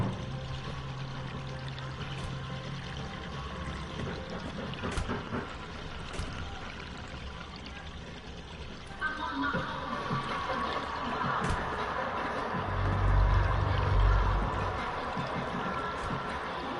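Water runs steadily in a shower, a continuous hiss of pouring flow that swells louder toward the end, heard alone without talk.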